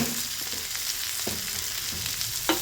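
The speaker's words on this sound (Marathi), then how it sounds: "मी आता हा फ्रेश लसूण टाकून घेत आहे।" Fresh garlic and cumin fry in masala with a dense, close, continuous sizzle broken by a couple of light spoon taps.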